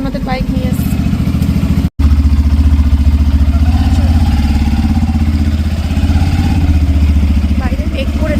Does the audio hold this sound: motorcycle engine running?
yes